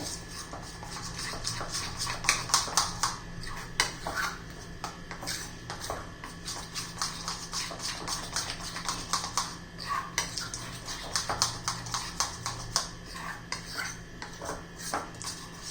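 Egg, onion and gram flour batter whisked in a bowl for pakoras, giving a steady run of close scraping, clicking strokes against the bowl for the whole stretch, with no talk.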